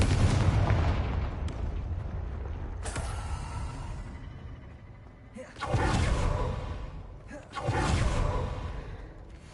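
Fiery Confringo spell blasts in the Hogwarts Legacy video game burst out in a few loud, booming explosions separated by short pauses, with creaking and whooshing effects between them.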